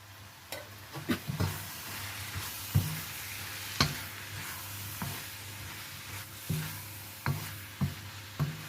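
Tuna masala with red chilli powder and garam masala sautéing in a pan, a steady soft sizzle broken by repeated scraping stirs at irregular intervals, close and moderately quiet with no talk.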